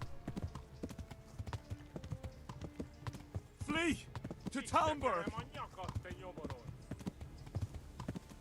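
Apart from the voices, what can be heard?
horse hooves clip-clop while riding in video game Kingdom Come Deliverance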